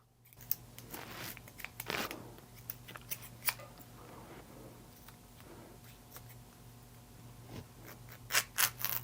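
Cheap one-dollar Harbor Freight scissors snip through twine in a handful of sharp, scattered cuts. Each crisp snap stands alone over a quiet background, and there is no talk.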